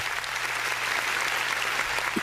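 Brief burst of applause, steady and fairly soft, heard on its own at a middle distance.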